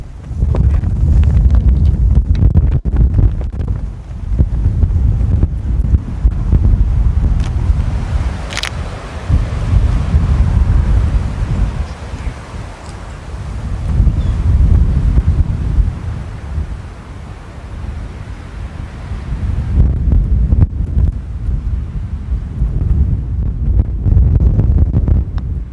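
Strong wind buffets the microphone on a golf course, a loud continuous low roar that rises and falls in gusts throughout, with no voices.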